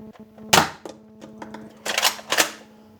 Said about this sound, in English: then you can shoot